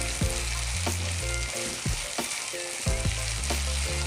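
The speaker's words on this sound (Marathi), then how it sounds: "आता आपलं टमाटर ना तेलामध्ये चांगलं परतवलं आहे" Tomatoes frying in oil for a bhindi masala, giving a continuous loud sizzle with repeated scraping strokes of a stirring spoon, close up and with no voices.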